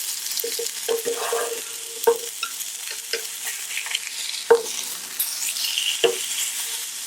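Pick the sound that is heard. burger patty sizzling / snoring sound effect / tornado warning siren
burger patty sizzling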